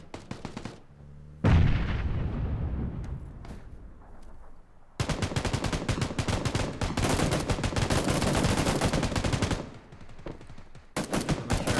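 Gunfire in the video game PUBG, a single sharp shot followed by long bursts of rapid, loud rifle fire, with brief gaps between volleys.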